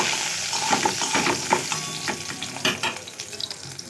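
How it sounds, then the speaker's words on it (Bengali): Lentil dumplings (bori) frying in oil in a wok, a close, continuous crackling sizzle with bursts of spattering and stirring clatter, heard alone with no talk. "যে বড়িগুলো নিয়েছি এই বড়িগুলো আমি ভেজে নিচ্ছি।"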